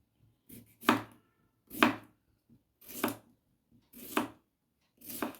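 A knife thinly slicing cucumber on a board, five crisp cuts at a slow, even pace, close and alone.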